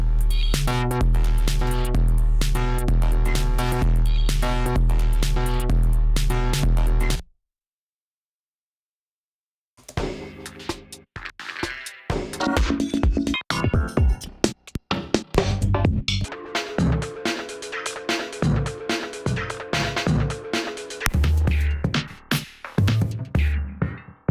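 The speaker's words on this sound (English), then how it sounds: "Limelight was easy to mess with because it has a kick, snare, hi-hat" Drum-kit sounds from the Limelight kit, with kick, snare and hi-hat, start as a dense, loud electronic pattern, break off into a few seconds of silence, then return as a busier, choppier beat with sharp hits.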